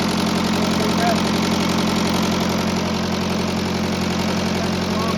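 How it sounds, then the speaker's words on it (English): The diesel engine of an International Harvester 574 tractor idles steadily and close by, a continuous low knocking rumble with no other sound over it. "this tractor runs great, sounds great"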